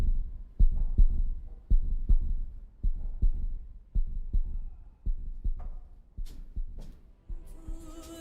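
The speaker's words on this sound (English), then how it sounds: "The heartbeat." Heavy, rhythmic heartbeat thuds from the Dragon Age video game pulse steadily and loudly in double beats, with faint game ambience and a brief rising tone near the end.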